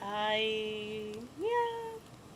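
A cat gives two clear meows, the first long and falling, the second shorter and rising, close and fairly loud in a quiet room.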